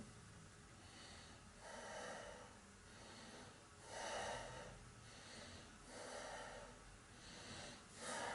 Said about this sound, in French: Cinq respirations d'un côté, 5 respirations de l'autre.